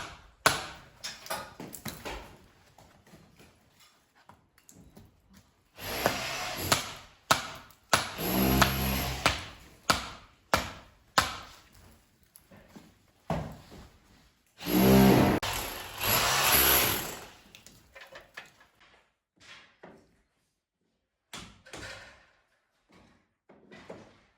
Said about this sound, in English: My stepdad opting for the jackhammer, my mum the hammer and chisel.